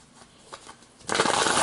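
Tarot cards being shuffled by hand during a full-moon reading, a soft riffling burst that starts about two-thirds of the way through after quiet handling, close and fairly loud.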